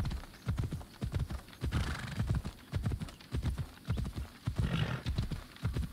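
Rapid horse hooves clip-clop in a steady galloping rhythm in the video game Assassin's Creed Odyssey, close and fairly quiet, with no talking.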